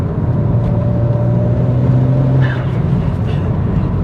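A tuned stage 2 BMW 335i Coupe E92 idles with a low steady engine drone, and a brief sharp hiss-like sneeze from the engine bay cuts in partway through.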